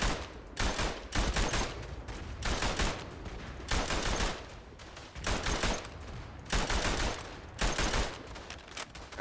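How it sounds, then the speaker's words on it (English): Bursts of machine-gun fire from a mounted gun in the WWI shooter Verdun, loud and close, coming in repeated rapid volleys with short pauses between them, no voices. "The only other disadvantage of this machine gun is you can't reload it mid-belt."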